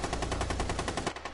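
Sustained automatic fire from a light machine gun in a multiplayer shooter video game, a steady rapid burst of evenly spaced shots lasting over a second before tapering off near the end.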